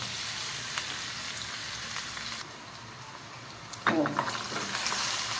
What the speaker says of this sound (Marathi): त्यामध्ये जिरं मोहरी कढीपत्ता आणि कांदा घालायचा.